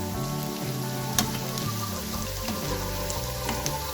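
Chicken popcorn pieces fry in a pan with a steady, close sizzle and fine crackling spatter that holds throughout, with a brief louder pop partway in and no speech.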